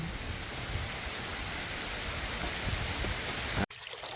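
Heavy hurricane rain pours steadily in a dense hiss of drops on surfaces, then cuts off abruptly to a quieter patter near the end.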